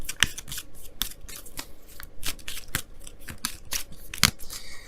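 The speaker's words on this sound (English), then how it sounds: "I'm going to pull a card for that too." Tarot cards are shuffled and pulled from a deck in a steady series of crisp, close card snaps and flicks with no talking.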